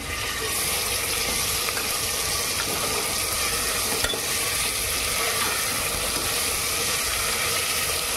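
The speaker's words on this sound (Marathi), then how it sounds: "तर आपला लसूण थोडा सोनेरी होत आला की मग आपण हे मटण टाकणार आहोत। थोडं मिक्स करून घ्या" Mutton pieces stirred and fried with golden garlic in a pan, a steady loud sizzle with scraping and stirring clatter throughout, no talking.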